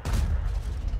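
Tank main gun fire in World of Tanks: one heavy, loud, booming shot with a low rumbling tail that fills the short moment, with no voices over it.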